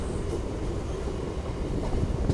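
A 17348 SSS Hubballi MEMU Express train rumbles steadily while halted for a one-minute stop before departure, a continuous low drone with faint wheel and carriage noise and no talk.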